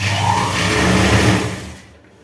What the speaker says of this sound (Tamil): இதில் திருவாமல் அழகாக தைக்கணும்.